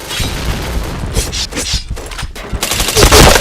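Video game gunfire crackles in rapid bursts, sharp close shots and automatic volleys, with a loud cluster of shots at the end, and voices briefly heard among them.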